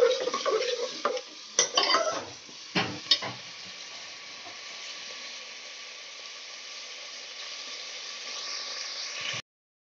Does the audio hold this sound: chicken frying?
yes